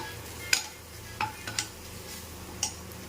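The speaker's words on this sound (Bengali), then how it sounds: "এবার এটা ভালো করে কষিয়ে নেব।" Banana flower curry being sautéed in a pan, with a low steady sizzle and a few sharp scrapes and taps of a spoon against the pan at irregular intervals.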